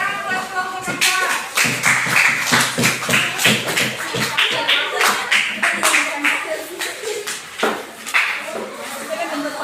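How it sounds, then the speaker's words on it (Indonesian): Elementary schoolchildren in a Sorong, West Papua classroom clap for a group about to present, with quick uneven hand claps rattling for several seconds while voices chatter throughout. "Tepuk tangan buat kelompok 4."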